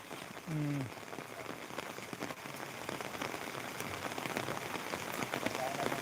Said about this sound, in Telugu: నార్మల్ వర్షం కురుస్తుంది